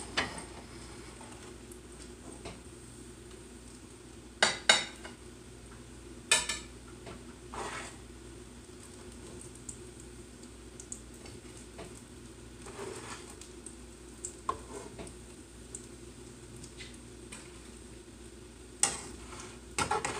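Mock chicken pieces fry in a pan sprayed with a little vegetable oil, a soft, steady sizzle broken by occasional clinks and scrapes of a utensil against the pan.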